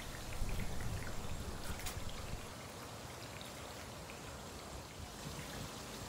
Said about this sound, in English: Low rate of the water coming out the drip lines.